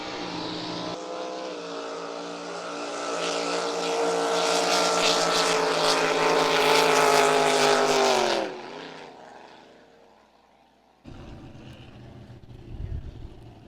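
Drag racing boats roar past loudly, a rising high-powered engine howl swelling for several seconds then cutting off abruptly, followed by a quieter lull and a second distant engine burst.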